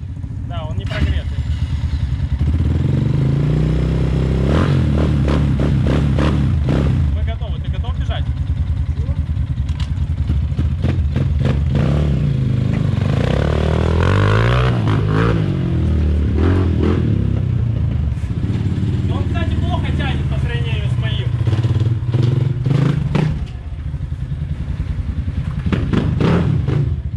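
An enduro motorcycle engine warms up with a steady loud idle and repeated revs and throttle blips, heard close. Voices talk over the engine throughout.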